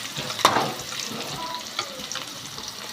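Curry leaves, finely chopped small onions and spices hit hot oil in a pan, giving a sharp initial crackle followed by a quieter, steady sizzle with light scattered pops.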